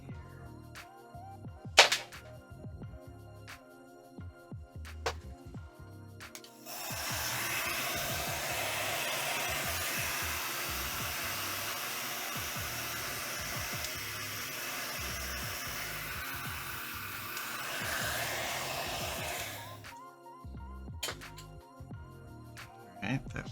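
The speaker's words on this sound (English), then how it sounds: "Now let's get our heat gun going here." Heat gun blowing hot air over shrink tubing during a MiniDisc deck repair, a steady loud roar of about thirteen seconds that starts and stops abruptly, with clicks and handling noise before and after.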